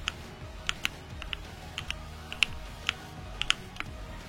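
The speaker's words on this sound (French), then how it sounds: "ce qui se passe sur un clavier japonais quand on appuie sur Shift et qu'on appuie sur toutes les touches du 1 au 0" Keys click on a Japanese computer keyboard while Shift is held and the number keys 1 to 0 are pressed, producing about a dozen sharp, irregular taps over a low background hum.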